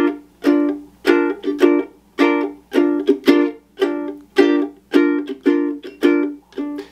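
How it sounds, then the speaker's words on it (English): A ukulele played in a ragtime swing strum, with quick muted ghost-note up strums filling a triplet feel: about a dozen crisp, evenly spaced strum pairs, close and clear with nothing else. "a quick up strum over the mute to insinuate this triplet feel"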